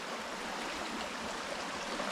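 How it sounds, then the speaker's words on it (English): The river between village farmland plots flows steadily, a soft, even wash of water noise with no breaks or voices. "So this is the river between our land and our neighbor's land"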